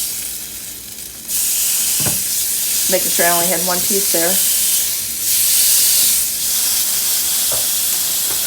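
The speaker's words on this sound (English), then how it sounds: "look at that sizzle" Sizzling and hissing of chicken frying on a hot Starfrit Rock indoor grill, a steady broadband crackle that swells partway through, with a brief spoken remark over it.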